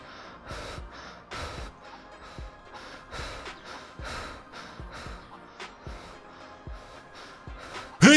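Female character in the DayZ video game breathing heavily, a steady run of loud rasping gasps and snorting inhales and exhales, close and rhythmic, repeating about once a second, with game ambience underneath.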